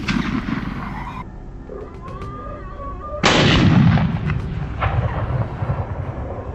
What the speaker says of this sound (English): After that, I continued to adjust the gun and shoot the others.